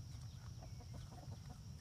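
Several chickens cluck softly and steadily while being fed a watermelon, faint low murmuring calls from a flock nearby with no talking.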